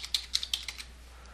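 Keys clatter on a computer keyboard as login details are entered, about seven quick, light taps spread over a second and a half, close and fairly quiet, with no voices.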